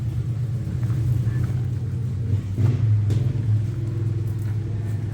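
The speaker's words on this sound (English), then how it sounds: "There is a tractor pull that is happening here at the same time." Heavy tractor-pull engines roar and rumble in the distance beyond an outdoor antiques sale in the woods, a steady low drone with occasional surges in revving.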